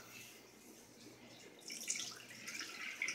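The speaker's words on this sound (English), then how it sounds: "pour 2 cups cold milk into a bowl" Cold milk is poured into a bowl at home, a soft steady liquid splash that grows louder partway through and continues to the end, close by with no talking.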